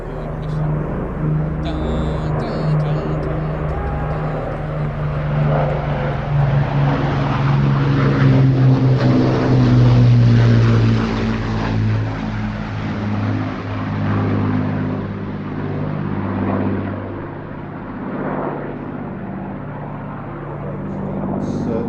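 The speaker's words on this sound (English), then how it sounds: "Avro Lancaster Hawker Hurricane. Legends from the Second World War." Avro Lancaster and Hawker Hurricane Second World War propeller aircraft fly past at an airport, a droning engine roar that swells toward the middle and then recedes, with people talking over it.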